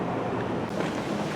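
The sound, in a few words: strong wind blowing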